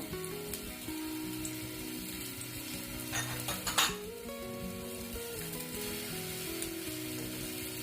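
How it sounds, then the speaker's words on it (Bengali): Chopped onion sizzles in hot oil for a chicken roll filling, a steady close frying hiss that runs throughout, with a brief burst of louder crackle and clinking from a utensil partway through. "তেল দিব, আমার তেল গরম হয়ে গেছে। এখন আমি পেঁয়াজ কুচি দিয়ে দেব।"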